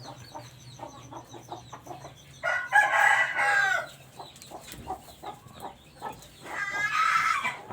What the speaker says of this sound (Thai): ชมกอไก่สวยๆนะครับ อีกหนึ่งตัวครับ